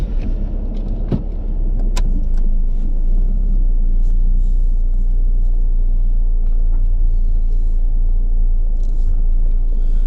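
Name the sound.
Saab 9-5 car driving on a test drive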